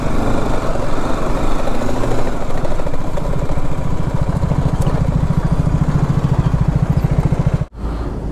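A motorbike rides along a broken, rough mountain road in East Sikkim between Zuluk and Rishikhola, its engine droning loud and steady with a rhythmic throb before a brief dropout near the end.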